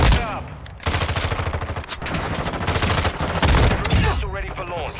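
Rapid automatic rifle fire from an M13B in Modern Warfare 2 rattles in dense, loud bursts with scattered shots and battlefield noise, and a voice speaks briefly over it.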